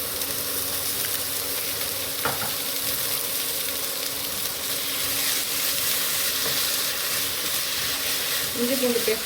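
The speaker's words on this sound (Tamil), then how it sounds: "இஞ்சி பூண்டு பேஸ்ட் போட்டு வதக்கலாம்." Ginger-garlic paste sizzles steadily with softened onions in a pan while cooking chicken biryani, a continuous close frying hiss broken by occasional stirring scrapes and clinks.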